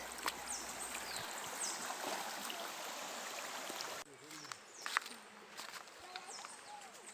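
A mountain river stream flowing with a steady broadband rush, loud at first and then quieter and more distant, with a few scattered clicks and faint bird-like chirps over it.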